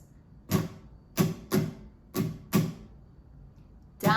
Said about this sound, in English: We have 1 strumming pattern that we use throughout the entire song.